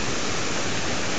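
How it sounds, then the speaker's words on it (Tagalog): Little Falls waterfall in Real, Quezon, a dense, steady rush of falling water filling the short moment, loud and close with no talk. "ayan po ay Little Falls"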